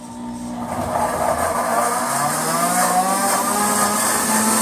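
A high-power blender chops vegetables with a loud, steady motor whir and rising grinding tone, running continuously and close up with no talking.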